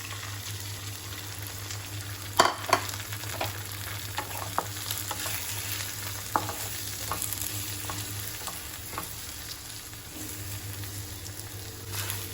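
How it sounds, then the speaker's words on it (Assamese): Three eggs stirred and fried dry with onion in a pan, a continuous soft sizzle under repeated spatula scrapes and taps, close and even, with no talking. "এতিয়া প্ৰায় একদম গুড়িকৈ পিঁয়াজৰ সৈতে মিক্স কৰি ভাঙি মই ভাজি ল'ম"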